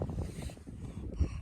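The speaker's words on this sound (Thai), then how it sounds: "ลมพัดแรง" Strong wind blows over pumpkin plants in a field, a rough, fluttering rumble of gusts buffeting close to the microphone.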